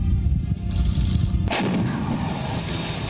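Pinaka rocket artillery fires with a sharp, loud launch blast that cuts in midway, followed by a sustained roaring rush, all over a dense rumbling background.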